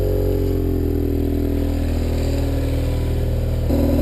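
BMW F800GS motorcycle engine running off-road, a steady loud drone with a slight rise in pitch near the end as the revs climb.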